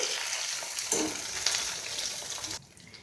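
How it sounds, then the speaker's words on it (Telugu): Green chillies and coriander leaves fry in oil while being stirred up and down, a steady close sizzle with a couple of brief scraping stirs, dropping off sharply near the end, with no one speaking. "ఈ విధంగా పైకి కిందకి కదుపుకుంటూ వేయించుకోవాలండి"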